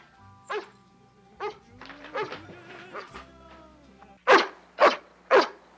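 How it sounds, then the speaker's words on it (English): A dog barks in a film scene, several spaced yaps followed by three loud close barks in quick succession, heard alone without talk. "Whose dog is that?"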